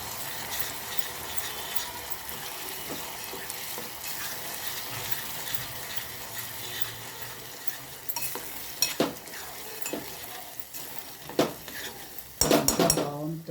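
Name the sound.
stirring red chili chutney with oil in a pan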